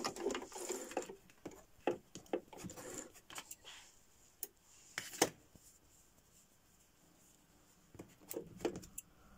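A home sewing machine back stitches, giving short bursts of faint mechanical whirring and clicking separated by quiet pauses, close by and with no talking.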